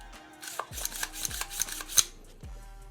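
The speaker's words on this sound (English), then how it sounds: "Now we threw on that charging handle and that BCG." AR-15 charging handle and budget PSA bolt carrier group cycled dry, unlubricated, giving several close metallic clacks and sliding rasps spread over a few seconds, with no talk.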